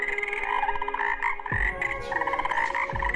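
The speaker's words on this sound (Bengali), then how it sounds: "আরে এখানে তো শুধু ব্যাং ডাকে" Frogs croak loudly and close by in a well, a dense chorus of rapid repeated calls with a few deeper thumps, and no voices over them.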